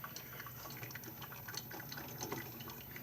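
Water pours steadily into a new Mr. Coffee pot, a soft continuous splashing and trickling that stays fairly faint and even throughout, with no talking.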